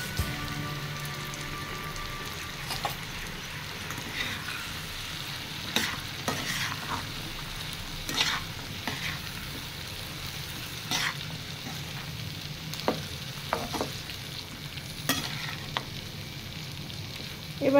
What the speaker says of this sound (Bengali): এবারে এটাকে সামান্য ভেজে নিয়ে একটু ঢাকা দিয়ে দিব, তাতে একটু সিদ্ধ হয়ে যাবে কচুটা।